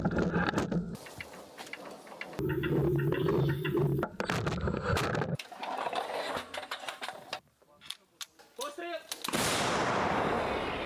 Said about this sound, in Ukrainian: Натівський 155-й калібр лягає в ціль чітко і рівно.